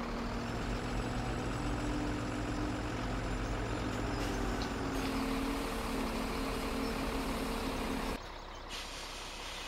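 Heavy truck idling and rumbling steadily in a farming video game set in the Upper Mississippi River Valley, with faint reversing tones and an air brake hiss before the engine drone drops near the end.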